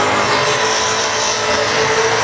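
Loud, sustained engine roar from a modified wagon with a reverse cowl scoop at a car show's burnout event, droning continuously with no breaks or talk.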